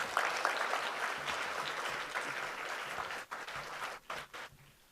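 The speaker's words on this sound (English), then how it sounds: "A huge round of applause, please." An audience applauds at an Arangetram classical dance debut, a dense, steady wash of many hands clapping in a hall that thins and tapers off toward the end.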